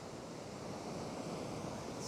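Ocean surf breaks over a reef, a continuous broad roar of waves and rushing water with some wind buffeting the microphone, steady and fairly distant, no talking.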